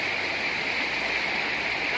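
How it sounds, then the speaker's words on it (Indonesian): River water flowing at the Konto river in Jombang, a continuous close rushing hiss without pause, with no clear speech. "Gus Duan lagi mandi di sungai"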